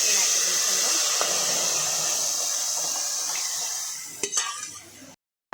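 Cabbage being tipped into a pan of hot oil with curry leaves and stirred, a loud steady sizzle filling most of the clip, then a few close clanks and scrapes of the spoon before a short silence.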